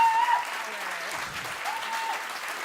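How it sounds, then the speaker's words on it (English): An audience applauds the speakers at the close of a session on core values for success, a steady, dense clapping that fills the whole stretch at a fairly even loudness. "please help me give a round of applause for our wonderful speakers, Tremaine Williams,"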